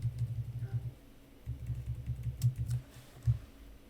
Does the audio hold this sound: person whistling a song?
no